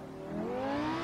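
BMW M5 E60 engine in a driving game, revving and pulling through a shift into third gear: a steady, moderately loud rising engine tone that swells after a brief dip, heard alone.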